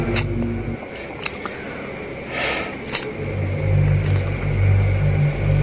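A car engine sound effect in a story podcast rumbles low and steady, drops out briefly, then comes back stronger with a revving hum and a few light clicks.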